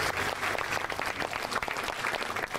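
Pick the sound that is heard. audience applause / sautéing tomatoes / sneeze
audience applause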